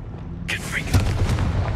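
A Confringo fire spell blasting in Hogwarts Legacy, a sudden whooshing burst followed by booming, rumbling impacts, with a voice speaking over it.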